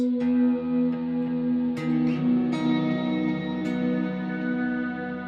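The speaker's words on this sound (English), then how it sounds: "Let's hear how that guitar sounds." Guitar looped through an SP404 MK2 sampler with effects, giving sustained layered tones with soft plucked attacks that ring out and blur into a steady, washy drone.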